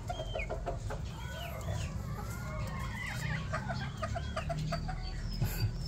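Backyard chickens cluck repeatedly nearby in short, chattering bursts, with occasional overlapping calls over a low outdoor background.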